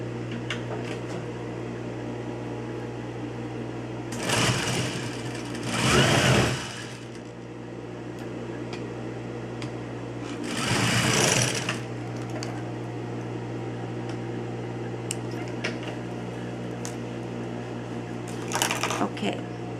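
A sewing machine stitches an edge seam on polo shirt coasters, heard in a few short bursts of whirring over a steady low hum, with quieter gaps between runs.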